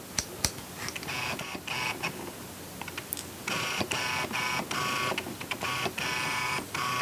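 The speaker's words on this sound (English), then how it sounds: "as soon as I switched continuous autofocus on, the lens immediately started hunting" A Canon 85mm f2 lens's autofocus motor hunts in continuous mode, giving close, quiet mechanical whirring in repeated short bursts with brief clicks between them and no voices.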